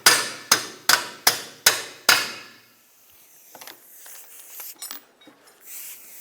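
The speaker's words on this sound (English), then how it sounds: "Take your hammer, drive the bolt out." Six sharp metallic hammer strikes driving out a rear shock absorber bolt on a 2007-2010 Chrysler Sebring, in a quick, even rhythm, close by, followed by quieter clinks and shuffling handling noises.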